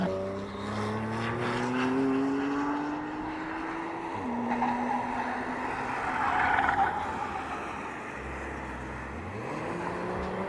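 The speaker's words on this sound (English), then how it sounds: "as you can see, the cars are going by right now" Race cars speeding past on the Sebring track, with high engine whines rising and falling as each one goes by, the sound overlapping and fairly loud throughout.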